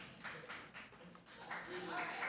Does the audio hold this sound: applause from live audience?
yes